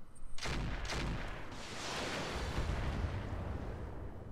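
A missile strikes in the mech combat game Roguetech, a muffled booming blast followed by a rumbling, crackling wash of explosion noise that lingers for several seconds without any talk.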